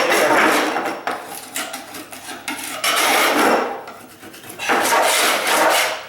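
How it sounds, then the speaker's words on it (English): A hand tool scrapes the leftover edges while removing oak floor planking in a condo rehab, with loud, close, rough scraping strokes in bursts and short pauses between them. "just scraping off little edges right there"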